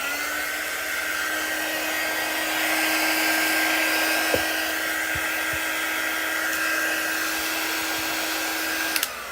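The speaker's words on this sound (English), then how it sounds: "we'll warm it up a little bit more with our quick dry tool" A quick-dry heat tool blows hot air over freshly applied chalk paint, a steady, close, high-pitched whine and airy rush that holds for the whole stretch, with a few faint knocks and no talking.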